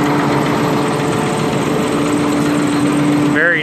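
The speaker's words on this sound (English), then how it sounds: "Very nice tractor." A 2011 John Deere 7230R tractor idles nearby, giving a steady engine drone with a faint tonal hum that holds evenly throughout, plus a brief higher whine near the end.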